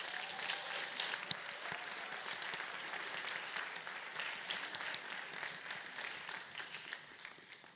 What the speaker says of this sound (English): Round of applause for these legends.